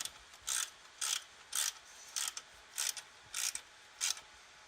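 A hose clamp is tightened on the oil catch can hose of a 2010 Dodge Challenger SRT8 with a 6.1L Hemi. Seven or eight evenly spaced ratcheting clicks sound close and crisp against a quiet background.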